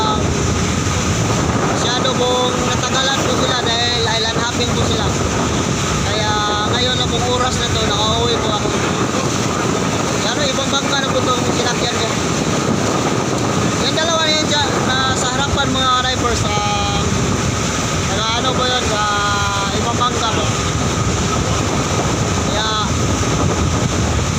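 Wind buffets the microphone over rushing water and a droning boat engine on a boat at sea, while voices talk now and then throughout.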